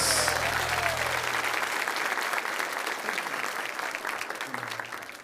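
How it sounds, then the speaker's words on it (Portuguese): A church congregation gives a round of applause for Jesus during a worship service, a sustained wash of many clapping hands at moderate level, fading slightly, with faint voices underneath. "Vamos dar uma salva de palmas para Jesus"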